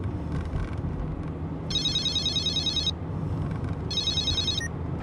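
An old-style car phone rings over a low background rumble, two bursts of trilling electronic bells, the first about a second long and the second shorter.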